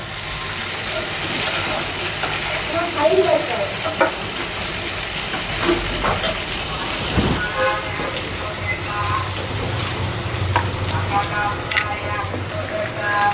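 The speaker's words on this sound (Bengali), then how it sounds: "এই যে আমি মাছ ভুনা করতেছি মাছ ভুনার ভিতরে পেঁয়াজ দিয়ে দিছি" Fish fries with onions in a pan, giving a loud, continuous sizzle and spitting crackle with occasional scrapes from stirring, close up and filling the whole stretch.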